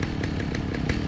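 Chainsaw-wielding enemy in the video game Alan Wake, set at a sawmill: a steady, loud buzzing chainsaw drone filling the whole clip, with faint rhythmic pulses through it and no talk.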